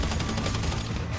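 Sustained automatic gunfire in the video game GTA V during a prison break heist, a dense, continuous burst of rapid shots filling the whole moment at steady loudness with no talk.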